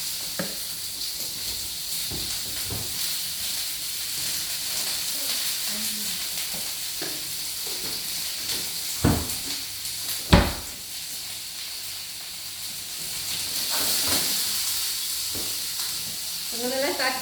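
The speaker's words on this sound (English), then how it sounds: "I'm going to let that cook away and defrost and cook." Fresh parsley and coriander frying in hot oil in a pan, giving a soft, steady sizzling hiss with a few scattered clicks and knocks.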